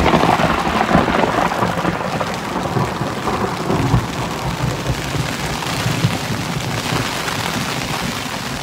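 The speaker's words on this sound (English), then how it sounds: "Here's the real storm I've been waiting for." Thunderstorm on a hiking trip in the New Hampshire mountains in June, with heavy rain pouring steadily and a deep rumble of thunder rolling through, loud and continuous with no voices.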